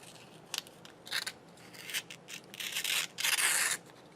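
Sharp scissors snip through glossy magazine pages for a glue book, several close crisp cuts and papery rustles arriving in uneven bursts that grow longer and louder toward the end.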